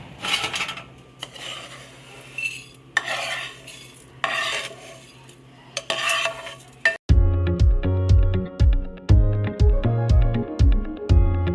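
Flaxseeds dry-roasting in a pan over low heat, first soft rustling and stirring scrapes, then a run of loud rhythmic metallic clanks and scrapes of a spoon against the pan, close up, with no talk.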